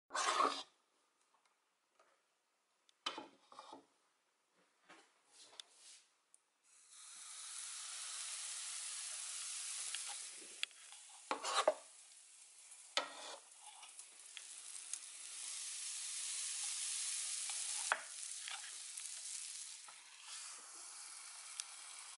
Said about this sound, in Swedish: Medan jag håller på och steker våfflorna